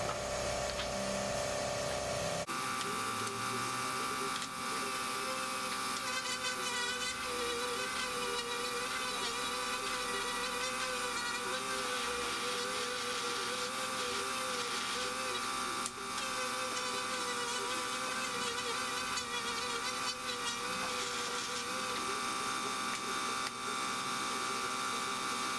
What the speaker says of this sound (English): The compressor is so loud.